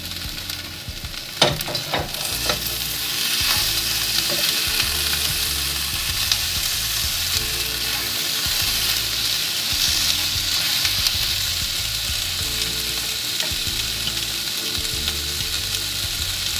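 Chopped small carrots tip into onions already frying in a pan, setting off a steady, loud sizzle with occasional stirring scrapes throughout, no voices.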